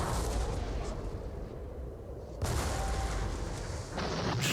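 Artillery fires in a John Tiller Napoleonic wargame set at the Battle of Eylau, with dense rumbling booms that surge sharply twice over a steady loud battle roar.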